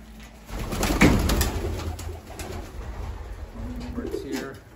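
Pigeons cooing in a loft holding nesting birds with eggs and young: soft low repeated coos close by, over a light rustle and background hiss, with a brief voice nearby.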